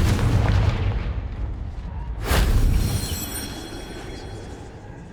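In the video game Hogwarts Legacy, a Confringo fire-blast spell explodes in a deep booming burst partway through. A rumbling tail fades under the ongoing game ambience, with no talk.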